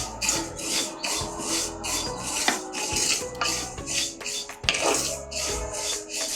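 Black sesame seeds roast in an iron kadai over a low flame, stirred with a scraping, rasping rub against the metal in repeated strokes, close and steady, with a few sharper clinks and no talking.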